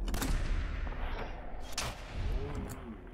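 A critical gunshot in Fallout 4, a sharp blast followed by further heavy shots and rumbling impacts layered over game background noise, loud and close.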